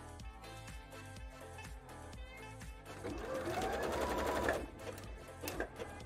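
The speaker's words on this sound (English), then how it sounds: "It's also easier to sew zigzag into mesh." A sewing machine stitches a zigzag seam into mesh for a bra, its needle thumping in a quick steady rhythm close by, then running faster and louder for a stretch before it slows.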